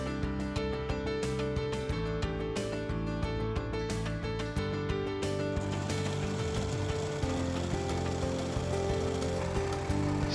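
Overlock sewing machine running: a loud, steady mechanical whir with rapid rhythmic stitching chatter, unbroken and close for the whole stretch.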